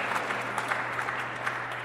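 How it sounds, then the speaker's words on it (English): An audience at a legislative prayer caucus session gives a round of soft, steady applause, heard from a distance over a low electrical hum, without voices. "the Lord deserves another round of applause after that"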